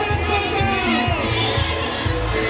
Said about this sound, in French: Les acclamations le long de son parcours